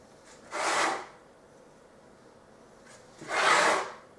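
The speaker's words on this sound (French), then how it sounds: "avec le dos de ma lame, je vais tout simplement faire un marquage comme ceci" Back of a knife blade scoring decorative lines into pastry, two short dry scraping strokes about three seconds apart, close and fairly quiet with no voices.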